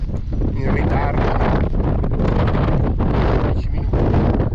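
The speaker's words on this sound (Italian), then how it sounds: "qua c'è vento" Strong wind gusts across a mountain trail during a trail race, a loud, constant rumbling roar buffeting the microphone close up, with no pauses.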